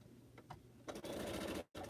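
A sewing machine stitching pineapple quilt blocks runs in a steady motorized burst after a couple of brief starts, then stops and resumes, close and fairly loud.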